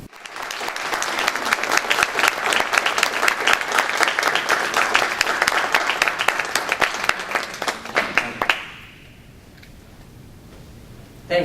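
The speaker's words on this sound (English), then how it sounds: "I think you can feel from that round of applause." A college audience breaks into full applause after a bishop's talk, with thick, even clapping that keeps going for about eight seconds before stopping abruptly into near quiet.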